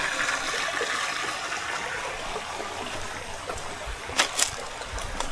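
Water flows steadily in a river near a farmhouse, a continuous rushing wash with a few louder splashes near the end.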